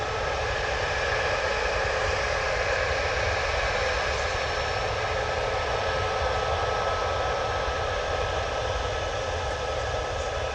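A TUI airliner departing Manchester Airport for Mahon produces a steady, loud jet roar with a constant tonal whine, continuous and unbroken for the whole stretch.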